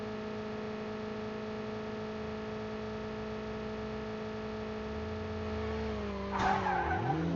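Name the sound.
car skidding and overturning, video game Call of Duty Mobile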